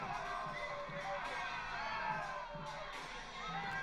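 A crowd at a battle rap event cheers and shouts, with excited whoops rising and falling in a dense, sustained wall of voices that stays fairly faint and distant.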